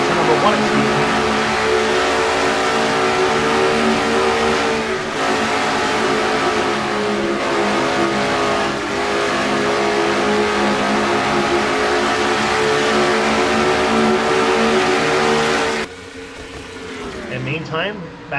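A pack of stock cars roars through a simulated race, their engines holding a loud, sustained high-rev drone with shifting pitch that dips and changes near the end, while a race commentator talks throughout.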